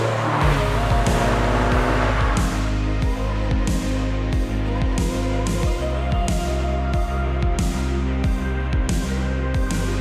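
Two Toyota MR2s, an SW20 Turbo and an AW11, drive on the road with a loud droning engine note from inside the car, joined by rhythmic thumps and a brief tire squeal.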